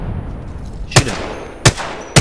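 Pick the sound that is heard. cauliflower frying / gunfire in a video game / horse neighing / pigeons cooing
gunfire in a video game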